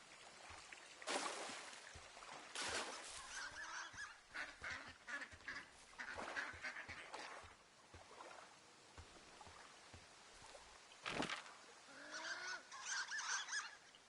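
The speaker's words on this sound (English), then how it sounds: "A bunch of ducks, apparently." Cartoonish duck and goose-like honking and quacking calls repeat in uneven bursts, fairly close and loud, within the outdoor wilderness soundscape of the video game Firewatch.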